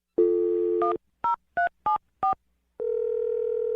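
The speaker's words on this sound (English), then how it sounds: "I'm going to dial his phone right now." Telephone dialing tones from a radio show call: a long steady tone, then four short evenly spaced keypad beeps, then another sustained tone, loud and clear with no voices.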